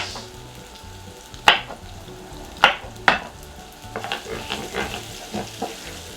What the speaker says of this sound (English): And then garlic. Get it in there. While that's cooking off